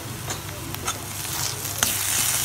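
Fried onions with salt, chili and turmeric stirred in a hot pan, giving a steady nearby sizzle broken by a few scraping spoon strokes, without any talking.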